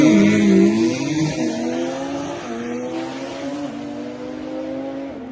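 A Toyota Supra A90 drag race car accelerates down the strip, its engine climbing through several rising gear pulls in a loud sustained whine that gradually recedes, with no voices.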